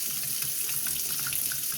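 Hot water runs steadily from a household tap during a plumbing problem, a constant close rushing hiss with no break and no voices.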